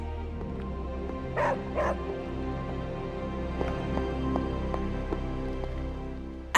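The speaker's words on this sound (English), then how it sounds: "Hey, Charlie Warley puppy face." A dog barks in the video game Marvel Midnight Suns, two short yips standing out over a steady game ambience of low hum and soft music, with a few fainter sounds scattered afterward.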